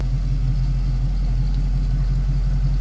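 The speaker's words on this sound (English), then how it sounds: "A little rumble coming out of that V8. Nice deep throaty exhaust note." A 1978 Chevrolet Camaro Z28 with a 6-liter V8 and cold air intake idles steadily, its deep throaty exhaust rumbling low and continuous at close range with a slight rhythmic pulse and no talk.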